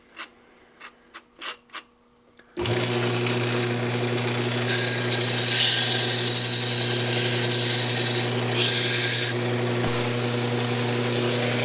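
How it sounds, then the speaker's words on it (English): A turned wooden lidded box spins on a woodturning lathe while being sanded, giving a steady loud motor hum and hiss that starts abruptly after a few light knocks. "I'm just going to go ahead and sand it up."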